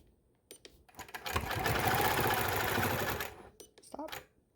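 Domestic sewing machine stitching a quilted element, running in one steady burst of about two seconds between quiet pauses, close and fairly loud, with brief stops and restarts at either end.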